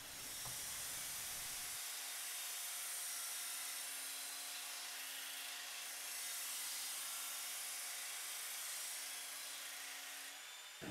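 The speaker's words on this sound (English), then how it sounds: "as we get started grinding here, I'll set this in continuous run. I've got the P120 coarse grit belt and a speed set at 6" A Ken Onion Mk2 knife and tool sharpener running continuously with a P120 coarse grit belt at speed setting 6 gives a steady, loud broadband hiss with a constant motor hum, unbroken for the whole stretch.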